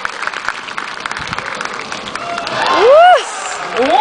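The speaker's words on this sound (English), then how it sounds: "put those hands together, cheer her on" Audience applause and cheering for a trained sea lion at a marine show, a steady crowd wash under an announcer's voice, swelling around a splash as whistle-like tones sweep up and down.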